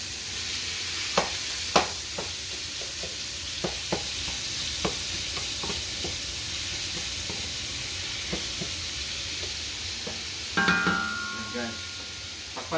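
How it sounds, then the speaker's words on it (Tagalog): Pancit Malabon ingredients seasoned with salt and black pepper are stirred in a sizzling pan, with a steady fry hiss and repeated utensil scrapes and taps, then a louder clatter near the end. "Ihalo natin."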